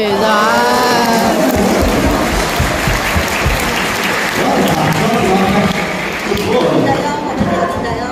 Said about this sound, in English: you've got to give him a huge round of applause